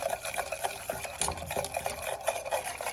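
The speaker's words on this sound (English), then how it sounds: "Whisk it up." A whisk beats a lemon garlic vinaigrette in a bowl, giving quick, faint rhythmic clicks and swishes repeating steadily at close range, with no talking.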